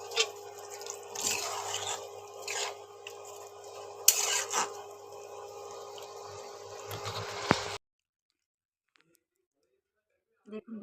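Water is poured into a pan of shahi chicken curry after the spices are fried until the oil separates, giving a steady, close hissing splash with drips for several seconds before it stops abruptly into quiet.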